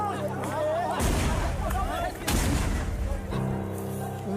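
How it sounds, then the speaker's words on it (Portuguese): Gunfire and bomb blasts during a military police clash with gold miners at Serra Pelada, Brazil: loud bursts near 1 and 2.3 seconds over crowd shouting and babble, with talk throughout. "Em seguida, tiros e bombas ecoam em Serra Pelada."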